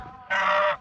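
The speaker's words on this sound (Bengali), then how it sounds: "রাজহাঁস।" A single loud, nasal goose honk, close by and lasting about half a second.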